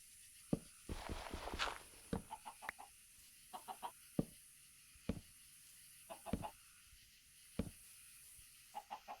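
Chickens in the game Minecraft cluck in short scattered bursts, with a longer flurry of squawking early on, against a faint steady hiss and no talking.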